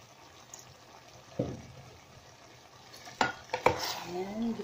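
Cabbage being sautéed and stirred in a pan for chicken sotanghon guisado: a faint steady sizzle broken by a few sharp scraping stirs near the end, with no talk.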